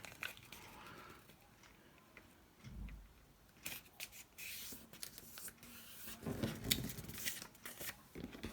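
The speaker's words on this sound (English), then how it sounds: "Okay, let's fold that in half." A sheet of paper for a flip-surprise multiple pocket tag is folded in half, giving soft, quiet crinkles and rubbing crease strokes that come in short bursts, close and without any talk.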